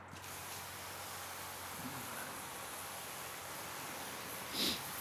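A steady, faint hiss of water spray rinses down a car panel during a rinseless wash, a continuous wash of noise with a brief louder burst near the end, no talking.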